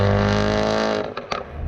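A 2016 Ford Focus RS fitted with a Borla ATAK 3-inch stainless steel cat-back exhaust with 4-inch polished tips rumbles loudly and steadily up close, then drops into a few sharper pops and bursts as the note falls away.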